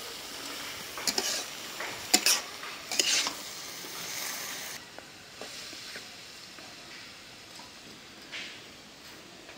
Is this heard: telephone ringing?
no